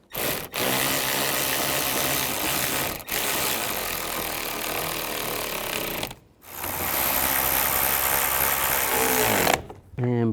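Mirror bolts on a 2011–2015 Chevy Cruze driver's side door being snugged with a power ratchet or driver, several sustained loud whirring runs broken by brief pauses, close by.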